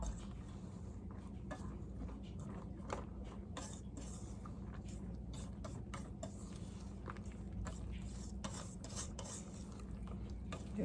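Quiet, steady scraping and rubbing as wet ingredients are stirred into a Jamaican-style Easter bun batter in a bowl, with occasional sharper clicks of the utensil against the bowl.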